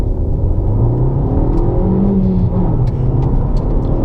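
A car engine revs hard while accelerating, its droning tone climbing steadily in pitch, loud and close, with no voices.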